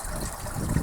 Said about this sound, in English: a water feature that I made